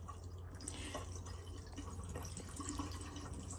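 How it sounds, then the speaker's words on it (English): RV antifreeze poured down a shower drain gives a faint, continuous trickle and drip over a low steady hum, fairly quiet and close. "we'll pour a little bit of this remaining antifreeze down the shower drain"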